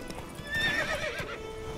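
A horse in The Witcher 3 clip-clops along with steady hoofbeats, and a clear neigh rises in the middle, all fairly quiet and without talk.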